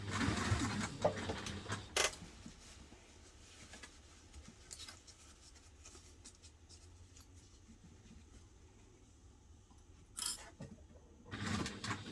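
A domestic sewing machine stitching fabric for a hipster bag, short bursts of rapid whirring separated by quiet pauses and faint handling noises, close and fairly soft with no talk.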